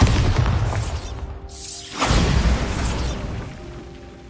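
Bombarda explosion spell in a Harry Potter video game, a loud close booming blast with a sweeping whoosh and rumbling debris that fades over a few seconds.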